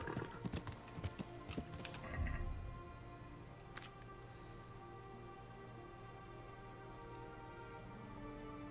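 Horse hooves clip-clopping in the video game Kingdom Come, a short run of clip-clops and a heavy thud in the first two seconds, then a quieter steady outdoor ambience with a few faint ticks.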